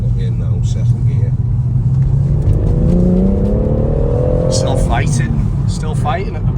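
A BMW M140 accelerates hard in second gear, its engine note climbing steadily and then dropping back, heard from inside the cabin as a loud, continuous drone while people in the car talk over it.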